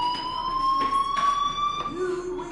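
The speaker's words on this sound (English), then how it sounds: "Hey, do you hear that fire alarm?" Fire alarm in the Life is Strange video game rings with a steady, shrill electronic tone, pulsing slightly while a voice speaks briefly beneath it.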